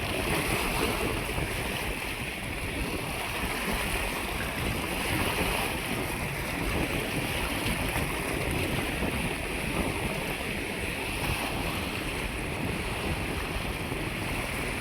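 A boat motors across a reservoir in strong wind, its engine drone steady under heavy wind buffeting on the microphone and rushing water, continuous and close throughout.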